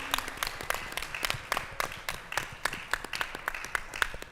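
Convention panel audience applause at the NNPA Convention 2023, a steady crowd of clapping hands with sharp individual claps standing out, continuous and fairly close throughout.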